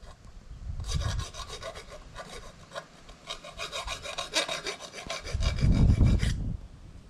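A file rasping a small burr off a metal part during reassembly of a 4020 tractor, a steady run of close, gritty back-and-forth strokes with a heavier rumble near the start and end, and no talking.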